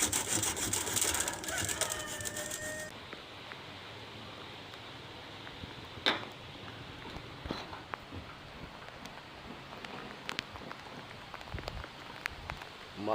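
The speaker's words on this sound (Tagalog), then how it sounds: "Umaaraw, umuulan." Rain patters steadily on surfaces outdoors in sunshine, a dense close hiss with scattered drops, louder for the first few seconds and then softer, with occasional sharper taps.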